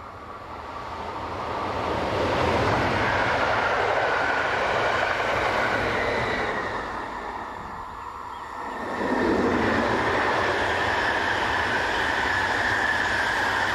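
A Swiss Class 460 electric locomotive passes another train, giving a sustained rushing rumble that swells, eases slightly, then surges again as it goes by close at hand.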